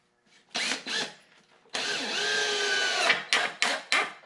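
A power drill bores through a concrete cemetery vault form in short bursts, with two quick pulses, then a long sustained high whine and several more brief revs, loud and close.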